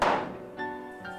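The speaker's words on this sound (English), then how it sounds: "As you can tell, the shaker shimmies are in. And this piece is getting hammered." Hammering shaker shims into place in a workshop: one solid, close thunk followed by two lighter ringing taps.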